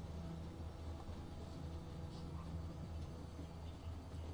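Continuous low rumbling of a moving train in The Walking Dead video game, a steady rail drone with rattling wagon noise held at an even level for the whole stretch, no talk over it.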